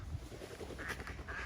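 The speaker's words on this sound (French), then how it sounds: "Ah bah, j'ai réveillé les canards." Ducks startled at a pond give a few faint, distant quacks over steady outdoor background noise.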